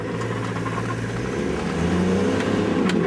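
A 4WD cruises along an outback road in the Northern Territory on a long trip, its engine holding a steady mid-pitched drone with continuous road roar throughout, fairly loud and close, no voices.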